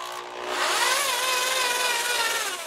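A BD Drain Gun power drain cleaner running, its motor spinning up quickly into a loud, steady whirring drone that holds alone for a couple of seconds.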